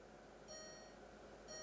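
An Olympus TG-Tracker action camera gives two faint, short electronic beeps, separated by a pause, over quiet background hiss.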